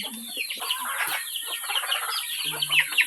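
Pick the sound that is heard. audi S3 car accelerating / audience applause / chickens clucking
chickens clucking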